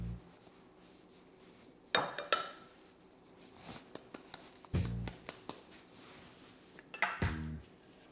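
A utensil stirs a cornstarch marinade mixture in a bowl, giving close clinks and scrapes against the dish in three short bursts with small taps between them.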